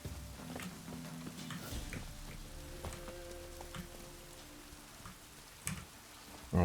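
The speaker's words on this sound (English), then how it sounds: "Is it just gonna rain all day?" Rain falls steadily in the fantasy video game The Witcher 3, a soft, continuous patter of drops on surfaces with faint ticking and a few light thuds, no talking over it.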